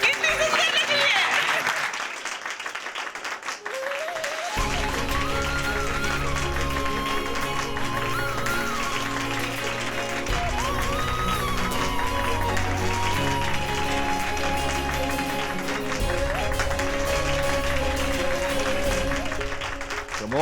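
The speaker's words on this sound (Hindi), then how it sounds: "तालियां बजती रहनी चाहिए" Guests clap for a bride at a wedding in a brief, dense burst of applause. Loud music swells in and takes over.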